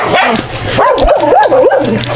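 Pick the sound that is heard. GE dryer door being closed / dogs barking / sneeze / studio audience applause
dogs barking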